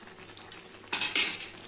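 A raw rice appam is turned over in a frying pan with a metal utensil, giving two quick, close scraping clatters against the pan over a faint background sizzle.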